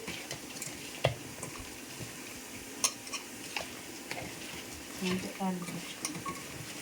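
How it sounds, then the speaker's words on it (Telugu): Mutton head pieces are mixed by hand in a pot with ginger-garlic paste and turmeric, giving soft, faint squelching and scattered small knocks and clinks at close range. "ఇది మొత్తాన్ని మంచిగా అన్ని ముక్కలు కలిసేటట్టు మంచిగా కలుపుకోవాలి"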